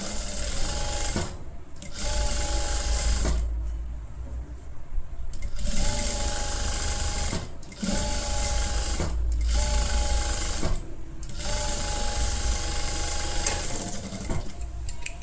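Sewing machine stitching along the edge of a halter neck kurti, a steady close, loud mechanical whirr in several long runs with brief pauses between them.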